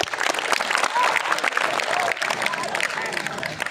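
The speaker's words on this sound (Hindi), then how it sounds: "तो बजाइए एक बार फिर अपने आप के लिए तालियां" Applause from the audience at a public talk in Vejalpur: a dense, steady wash of many hands clapping at close range, with crowd voices mixed in throughout.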